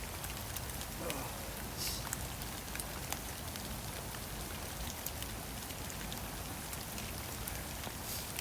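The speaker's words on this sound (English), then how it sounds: "I said bit, it's absolutely pouring down." Heavy rain pours down steadily outdoors at a woodland building site, a dense, constant hiss of drops on surfaces that runs evenly throughout without letting up.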